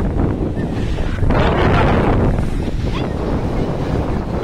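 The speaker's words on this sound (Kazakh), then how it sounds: "Адам көп, қатты, жел қатты болып тұр" Strong wind buffets the microphone at a crowded lakeshore on a wavy day, a constant loud roar with surf washing underneath and no clear voices.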